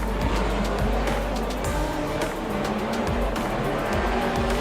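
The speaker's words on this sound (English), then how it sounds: "listen to those beautiful cars" Drift cars, including a V8 on the rev limiter, roar at high revs while tires squeal repeatedly at a Drift Kings Asia Series round in Malaysia, a loud continuous mix of engine noise and skidding.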